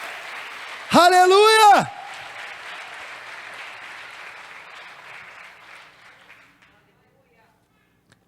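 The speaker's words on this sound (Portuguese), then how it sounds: "Você pode aplaudir a palavra de Deus?" Congregation in a church service applauding after a loud shout of praise, steady clapping that slowly fades out over several seconds to near silence.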